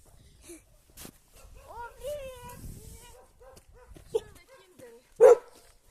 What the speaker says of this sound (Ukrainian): Дивіться, яка хороша собака.